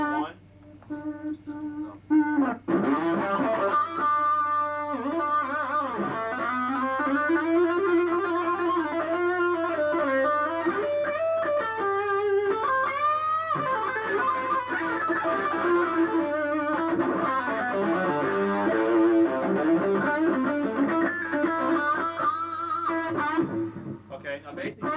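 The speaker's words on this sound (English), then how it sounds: "this program utilizes a distortion, EQ, an exciter, a modulation delay, and a hall reverb" A 1989 Korg M1 synthesizer program played live through a PA system with distortion, EQ, exciter, modulation delay and hall reverb: sustained, harmonically rich tones with shifting pitches and a reverberant tail, loud and continuous after a short opening.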